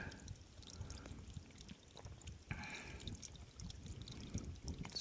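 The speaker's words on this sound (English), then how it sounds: "Trying to capture some water here so we can" Stream water trickling and pouring steadily into a collection container on the Appalachian Trail, a continuous close splashing flow with no voices.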